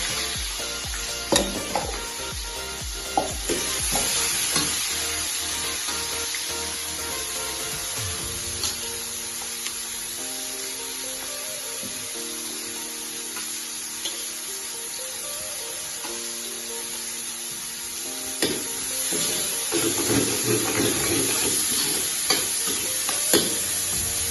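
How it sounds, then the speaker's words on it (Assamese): Continuous hissing sizzle of onions frying on a high flame in a hot pan, with occasional stirring scrapes and clinks, close and steady, no talking. "পিঁয়াজখিনি অকণমান কেঁচা গোন্ধ হোৱালৈকে হাই ফ্লেমতে ভাজিব লাগে"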